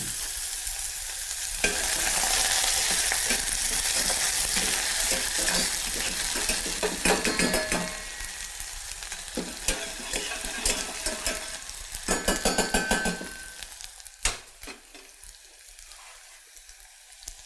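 Chopped onion dropped into hot olive oil in a pan, giving a loud, bright sizzle that keeps going under intermittent scraping and stirring, with clatters and a brief splash of water toward the end.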